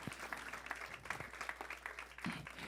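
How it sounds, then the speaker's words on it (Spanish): A church congregation gives a faint, fairly distant round of applause that keeps up an even patter of many claps for the whole stretch. "dale un fuerte aplauso de gratitud al Señor"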